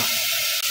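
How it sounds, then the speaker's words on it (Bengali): Water is poured into a pressure cooker holding vegetables for pav bhaji, a close, steady hissing rush that continues without a break. "জল দিয়ে দিচ্ছি"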